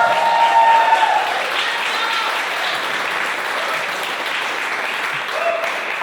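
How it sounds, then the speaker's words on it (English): Sustained applause from a summit audience for a man on stage fills the room steadily for several seconds, dense and even, fading slightly toward the end. "Can we just give a round of applause for this brother here?"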